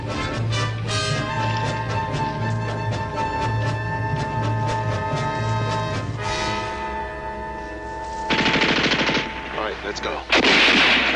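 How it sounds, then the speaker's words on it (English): Machine gun fire in a war TV combat scene, loud sustained bursts of rapid shots with heavy rattling, then sharper louder volleys near the end, no talk heard. "They got a machine gun."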